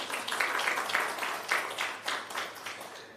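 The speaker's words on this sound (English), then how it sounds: "give yourself a clap" Conference audience clapping in a hall, a dense, moderately loud wash of many hands with small swells and dips throughout, no voices.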